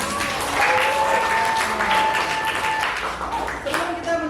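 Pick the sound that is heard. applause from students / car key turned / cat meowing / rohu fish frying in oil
applause from students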